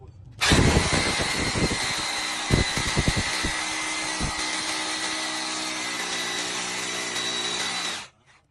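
Hukan K94 hammer drill boring into reinforced concrete with a second bit, a loud steady whine with rattling hammer impacts early on, running continuously for several seconds before stopping.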